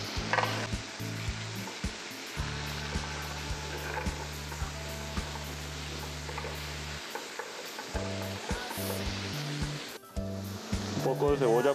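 Beef loin sautéing in hot vegetable oil for a cajun pasta dish in a restaurant kitchen, a steady sizzle with stirring clatter, broken by brief pauses and low rumbles, while someone talks over it.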